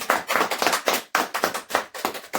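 Several people clap in a quick, irregular burst at close range after a spicy noodle challenge, bright hand claps repeating steadily with no talking.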